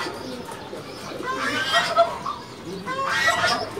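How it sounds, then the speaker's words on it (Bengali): Pigeons in a loft give low throaty coos in two bursts of calling, close and fairly loud against quiet background rustle. "খুবই সুন্দর একটা কবুতর।"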